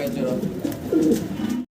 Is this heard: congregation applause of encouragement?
no